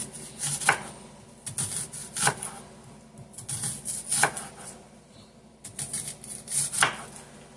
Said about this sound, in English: I'm just going to slice them down in real tiny slices